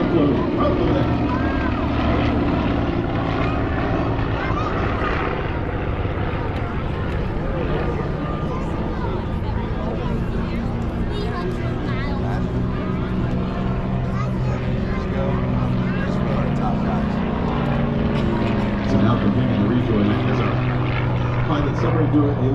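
Two T-34 airplanes and a Yak pass show center at an air show at over 300 mph, a loud, steady propeller-engine roar that fills the whole stretch, with an announcer talking over it throughout.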